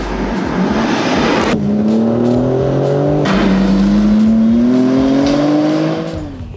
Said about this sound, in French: c'est l'échappement avec les clapets actifs qui offre aux 6 cylindres une sonorité particulièrement démoniaque